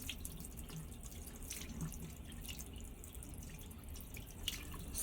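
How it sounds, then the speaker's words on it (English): Tap water running into a sink while hands are wetted, a faint steady trickle with light splashes, quiet and continuous throughout. "Let's wet our hands."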